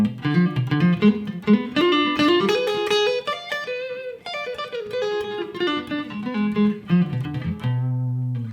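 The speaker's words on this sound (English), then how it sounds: "that's why you can hear that diminished sound" Sustained keyboard chords of a diminished quality ring out in a continuous stream of shifting harmonies, loud and close, with no voices.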